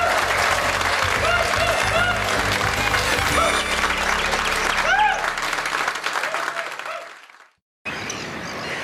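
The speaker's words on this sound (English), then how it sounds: "Big round of applause for our guests here." A studio audience claps loudly for guests, a dense burst of applause that carries on steadily, then fades out and drops to silence near the end before a bright new sound begins.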